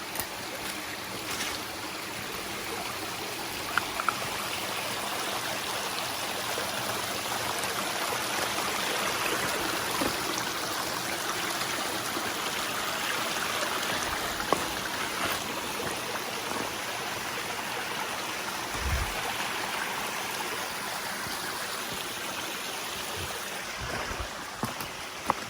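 Natural creek running over massive layers of flat rock, a steady broadband wash of flowing water that stays even throughout, with a few faint knocks and no speech.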